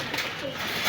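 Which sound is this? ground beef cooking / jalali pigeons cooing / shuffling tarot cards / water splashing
jalali pigeons cooing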